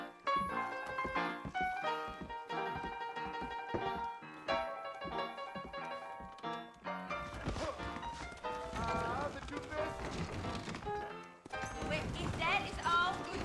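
Saddled horses clip-clop at a trot in the western video game Red Dead Redemption, steady hoofbeats under a music score, with a busier stretch of gallop and movement later on.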